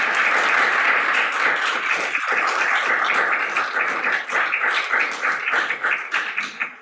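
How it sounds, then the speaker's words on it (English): Town hall audience at Mt. Pleasant City Hall applauding the panelists, dense sustained clapping close and loud at first, thinning and fading toward the end. "big round of applause to all of our panelists today"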